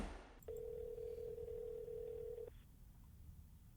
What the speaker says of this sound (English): I yank my phone to my ear and listen to the dial-out noise.